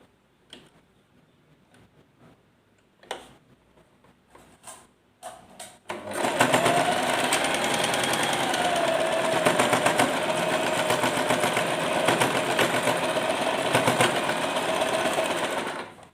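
A sewing machine stitches fabric for a dori, starting after about six seconds of quiet handling clicks and running as a loud, steady whirring drone to the end.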